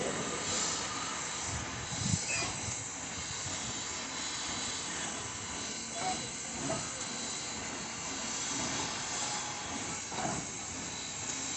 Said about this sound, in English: Here comes the driving wheels onto the table.